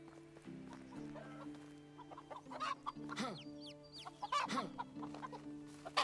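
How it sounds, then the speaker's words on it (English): Chickens cluck on a farm in the medieval game Medieval Dynasty, several short, fairly close squawks and clucks scattered over a low steady background hum. "Oh, the chickens are eating, I guess."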